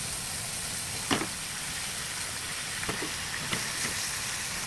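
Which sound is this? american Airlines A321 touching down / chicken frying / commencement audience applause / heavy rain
chicken frying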